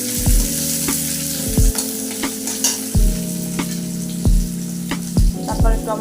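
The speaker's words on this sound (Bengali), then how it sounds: "পেঁয়াজ কুচি দিয়ে দিচ্ছি, দিয়ে কষে দিচ্ছি।" Chopped onion frying and being stirred in a pan, a loud continuous sizzle close up, punctuated by repeated knocks and scrapes of the spatula against the pan.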